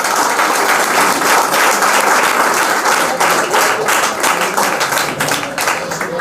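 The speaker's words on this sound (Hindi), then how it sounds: "ताली बजाओ भाई।" Close, loud applause from a group of people clapping, dense and steady for the whole stretch, with no talk over it.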